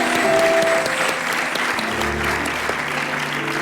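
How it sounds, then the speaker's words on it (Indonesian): Studio audience applause during a televised hypnotherapy segment, a steady dense wash of clapping from a crowd that carries through, with a faint sustained tone beneath. "suara tepuk tangan dari penonton akan membuat tidurnya lebih nyenyak"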